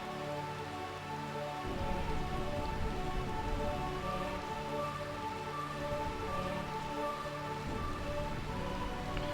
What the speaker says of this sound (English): they call it the realm of eternal rain, but basically it's always raining here